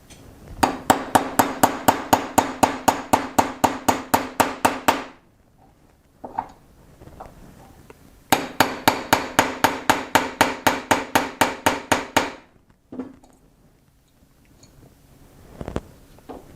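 Rapid metallic hammer taps drive a small pin out of a CZ83 pistol, coming in two quick bursts of about twenty blows each, separated by a quiet pause, close up with faint handling clicks between.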